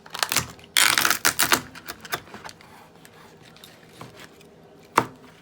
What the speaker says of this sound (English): you want to take the knife, put it right at the tip of the tail, and just press down